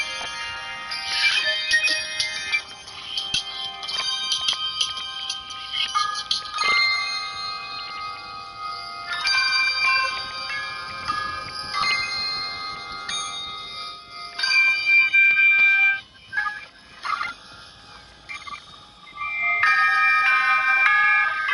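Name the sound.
bells in a song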